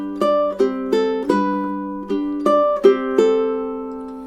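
Solo ukulele picks out measures 9 and 10 of Tárrega's classical piece Adelita, a repeated phrase of plucked notes and ringing chords, close and clear with no voices.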